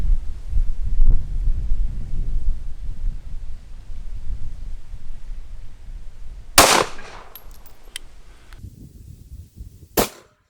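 Geco Red Zone low-budget self-defense rounds fired into clear ballistics gelatin: two sharp, loud gunshots a few seconds apart, each cutting off abruptly, over gusty wind noise on an outdoor range.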